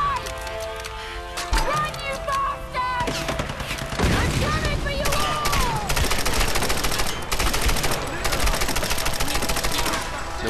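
Rapid bursts of grenade launcher and weapon fire in the Tomb Raider video game, loud and continuous with dense explosive cracks, a brief voice near the start.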